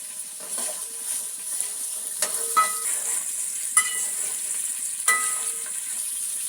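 Onions sizzling in a pan with salt while making spicy biryani, a steady soft frying hiss with a few clicks of stirring and utensil taps, close and moderately quiet, no talking.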